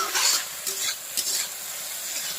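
Pork and fermented bamboo shoot being stirred in a pan, broad sizzling hiss with a few louder scraping strokes of the spoon, steady and close, no voices.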